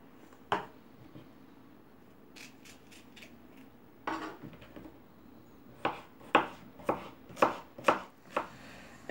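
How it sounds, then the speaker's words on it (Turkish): A knife slices zucchini thinly on a cutting board: a few scattered cuts, then a quick run of six sharp, close chops toward the end, with no talking. "Önce ikiye sonra dörde bölüyorum. Ve ince ince kabaklarımı"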